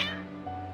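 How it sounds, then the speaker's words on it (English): Cats meowing in Genshin Impact gameplay, a single short, clear meow that rises then settles, heard alone and up close. "Your cats seem pretty worked up."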